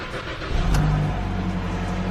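Engine of a 2017 or later Ford Escape with 42,000 miles starting up, with a brief crank followed by a steady close idle hum.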